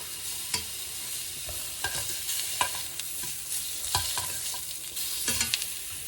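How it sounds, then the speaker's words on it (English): Mushrooms searing in a hot pan, a continuous close sizzle broken by repeated stirring and tossing knocks at irregular intervals, with no talking. "Mushrooms are almost done. Again, you want that beautiful sear on them."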